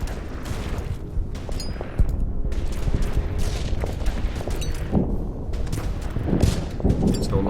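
Battle gunfire from units in the Order of Battle strategy video game, with repeated shots and booms overlapping in a dense, irregular barrage that stays loud and close throughout.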